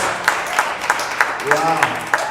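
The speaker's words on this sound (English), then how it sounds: "I want us to give them a massive, massive round of applause" An audience at a World Robot Olympiad awards ceremony in Zimbabwe claps for a robotics team in a steady, rhythmic beat, with voices calling out over the clapping.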